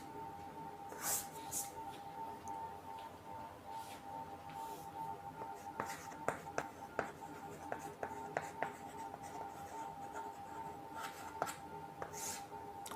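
Marker or chalk scratching across a board during a Class 9 physics lesson on speed and velocity, a run of short taps and strokes near and fairly faint, with quiet talk now and then.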